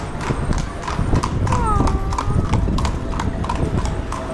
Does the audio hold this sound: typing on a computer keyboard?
no